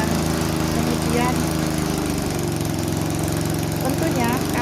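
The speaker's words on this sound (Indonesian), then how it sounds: "Kacangnya kita masukkan ke dalam mesin ini" A peanut-grinding machine runs steadily, churning peanuts for Madiun pecel sauce with a dense, continuous motor drone and rattling vibration throughout, while voices talk faintly in the background.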